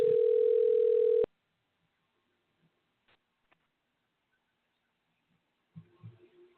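An outgoing telephone call gives one long, steady ringback tone that cuts off abruptly, leaving near silence broken only by a few faint clicks and a brief low rustle near the end.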